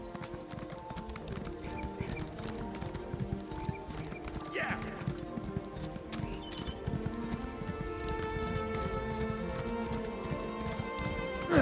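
Steady clip-clop of horse hooves trotting along, with a brief whinny, under a layered The Elder Scrolls Online soundscape and a voice speaking.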